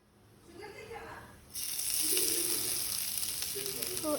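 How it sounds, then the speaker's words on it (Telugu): Ground paste for veg manchurian hits hot oil with cumin seeds and bursts into a loud, steady sizzle that swells and holds close, after softer speech-like sounds at the start. "యాడ్ చేసుకొని ఇలా ఫ్రై చేసుకుందాం కొంచెం సేపు"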